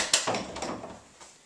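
An interior door and its jamb are pulled out of the wall opening together, making a brief wooden knock, then scraping and rattling, close and fairly quiet, with no talk.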